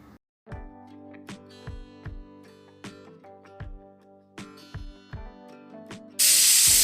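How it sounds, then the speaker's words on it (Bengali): A pressure cooker holding jackfruit, potato and raw mango lets out a sudden, loud burst of rushing steam hiss at the very end. Before it, soft plucked tonal notes repeat at a steady rhythm. "প্রেশার কুকারে একটা হুইসেল পড়ে গেছে"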